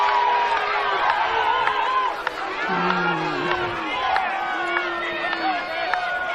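A crowd at a women's football grand final, Salisbury Inter playing, reacts with loud chatter, shouts and whoops after a referee's free kick call, with a commentator's voice running over the noise.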